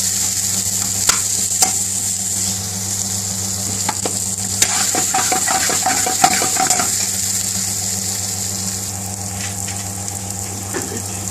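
Biryani paste sizzling steadily in a hot pot while a spoon stirs it, with repeated scraping and clinking against the metal over a constant loud frying hiss.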